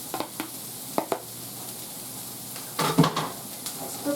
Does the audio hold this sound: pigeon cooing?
no